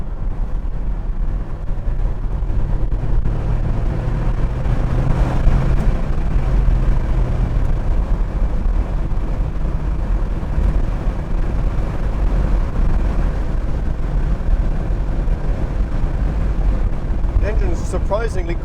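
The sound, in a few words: Porsche 964 Targa engine while driving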